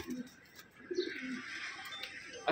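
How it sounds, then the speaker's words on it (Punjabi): An unusual breed of domestic pigeon coos in soft, low throaty calls, faint and close, with a couple of brief murmurs against quiet background rustle. "ਮਾਸ਼ਾਅੱਲਾ ਬੜਾ ਅਲੱਗ ਕਿਸਮ ਦਾ ਕਬੂਤਰ ਜੀ"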